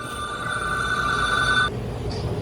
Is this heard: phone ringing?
yes